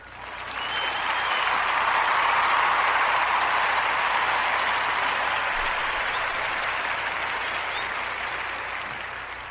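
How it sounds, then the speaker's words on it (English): A round of applause, a dense, even wash of clapping that swells in, holds steady for several seconds and slowly fades, heard alone without talk. "I'm going to give him a round of applause."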